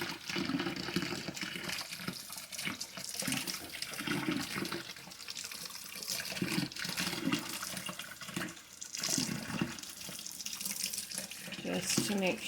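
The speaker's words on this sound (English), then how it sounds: "And I'm going to rinse out its roots." Tap water runs steadily and loudly over the roots of an orchid being rinsed to clear mealybugs, a continuous close splashing hiss with small shifts as the roots move under the stream.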